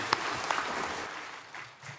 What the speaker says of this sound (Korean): 박수를 하나님께 드리겠습니다.